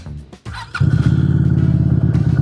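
QJ Motor SRV 250 AMT with a 250 cc V-twin engine cranks with a brief whir and catches, settling at once into a loud, close, throbbing idle.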